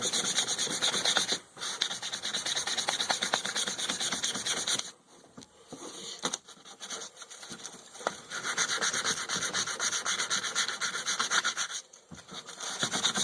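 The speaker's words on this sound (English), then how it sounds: "I rubbed off some of the color." Color being rubbed off a leather baldric, a close, continuous scratchy rubbing in long stretches with brief pauses between strokes.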